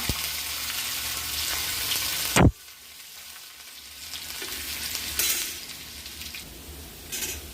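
Crushed garlic dropped into hot coconut oil with rice, giving a loud burst of sizzling and stirring, then a steadier, quieter frying hiss.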